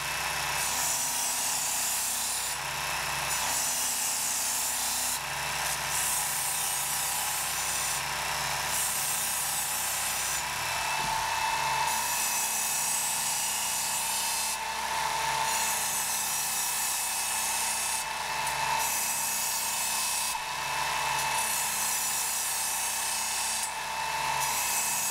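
A Work Sharp Ken Onion electric knife sharpener running on a fine 3000-grit belt gives a steady close motor whine and hiss, with a repeating swish as the blade is drawn across the belt, and no talking.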